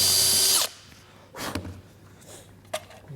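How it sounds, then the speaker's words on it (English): A power drill pre-drills a screw hole in a live edge wood table, a short loud whirring burst that stops abruptly, followed by a few faint handling knocks. "Then it's just a matter of pre-drilling for the screw."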